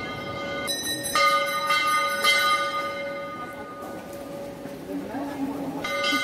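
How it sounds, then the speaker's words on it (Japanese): A bell rings with sustained metallic tones outdoors at a site in Kuala Lumpur where monkeys gather, with repeated strikes over a busy, noisy background. "鐘の音に猿が集まってきてる。"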